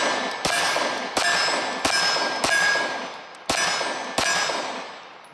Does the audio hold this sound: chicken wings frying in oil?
no